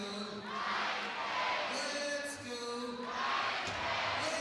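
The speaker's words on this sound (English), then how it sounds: "Crowd starting to get into it here in East Tennessee." A hockey arena crowd at an East Tennessee minor-league game roars in a sustained, swelling wash of cheers and shouts, rising and falling in waves, steady and fairly loud throughout.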